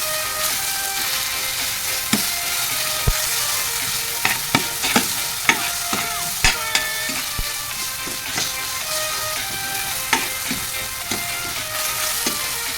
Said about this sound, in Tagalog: Durugin lang guys ang kamatis.